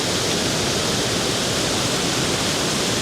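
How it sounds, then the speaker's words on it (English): A waterfall in South Wales, swollen after a storm, pours in a loud, constant broadband roar with no break, close by and alone without voices. "And I'll just leave you with a view of that waterfall"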